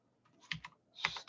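Keystrokes on a computer keyboard as a web address is typed, two short bursts of quick clicking taps separated by a brief pause, close and fairly quiet with no talking.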